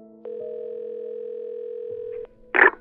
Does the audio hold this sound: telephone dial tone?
yes